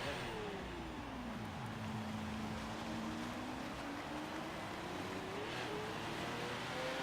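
Fully tuned Pterodine Gurkha LAPV armored vehicle driven in a video game, its engine drone steady and continuous, pitch dipping then slowly climbing as it accelerates, with no talking.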